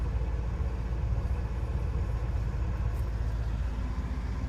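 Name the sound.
Winnebago F-17 engine fast idling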